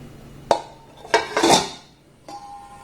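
A metal cake tin set down into a pot on a stand, a few sharp metallic clanks and a short scraping clatter, close and clear with no talking.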